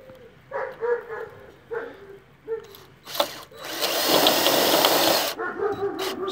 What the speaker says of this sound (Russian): Все, подвели, выровняли и прихватываем саморезом.